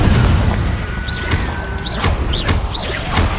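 In the Hogwarts Legacy video game, a Confringo fire spell explodes as a rumbling burst with whooshing, crackling flares repeating over a few seconds, loud and close with no talk.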